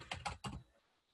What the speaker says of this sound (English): Must be a faulty keyboard.